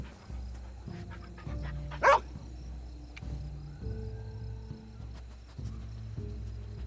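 A dog barks once in the video game Two Falls, a sharp bark over a calm backdrop of crickets and insects, with a faint melodic tone underneath.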